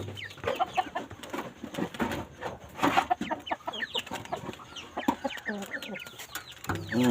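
Farm chickens cluck steadily and close by as they are fed a mix of corn and feed, with busy overlapping calls throughout and someone speaking briefly among them.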